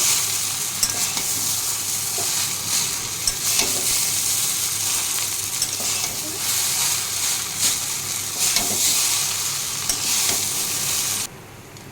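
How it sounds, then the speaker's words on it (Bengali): Egg chow mein with potato and onion is stir-fried in a pan at home, a loud, steady sizzle with continuous scraping and tossing that runs close and alone until it stops just before the end. "দিয়ে দিচ্ছি এবার ডিমের ভুজিয়াগুলো। আবারও ভালো করে মিক্স করে নেব।"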